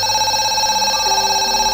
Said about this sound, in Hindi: एक पुराना टेलीफोन बूथ खड़ा था जो हर रात अपने आप बजने लगता था।